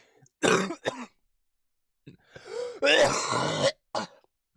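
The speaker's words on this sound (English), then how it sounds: "I don't know where that cough came from." A person clears their throat and coughs harshly in a few close, loud bursts separated by brief silences.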